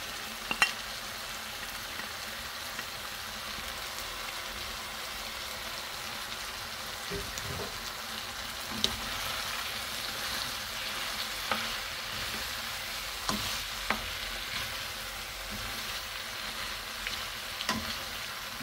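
Meat sizzles and fries in a pan for a mildly spicy sauce served with pasta, a continuous crackling hiss broken by occasional sharp scraping clicks of stirring, close and alone.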